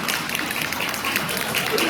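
An audience at a pastors' seminar gives a dense, steady round of applause that fills the whole stretch at moderate loudness, with a faint voice underneath.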